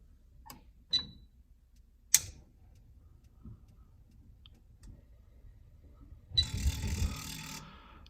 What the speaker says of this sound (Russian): можно послушать, как краник открывается